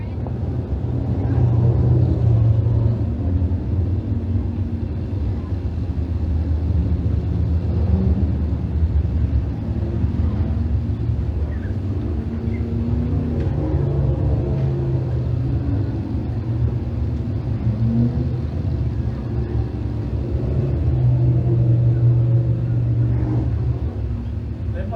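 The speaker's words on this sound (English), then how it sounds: "the Panther Framework 602 crate sprint cars" Panther Framework 602 crate sprint cars race a heat at Can-Am Speedway, a steady low engine roar rising and falling over 25 seconds as the pack circles, with commentators talking over it.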